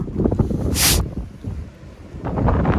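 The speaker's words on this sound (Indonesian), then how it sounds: "Ini kalau nggak pakai mic cuma suara angin doang yang kedengeran." Wind buffets the microphone beside the sea at a windmill site on Jeju in sub-zero cold, loud rumbling gusts with a sharp hissing burst near the start and another surge toward the end.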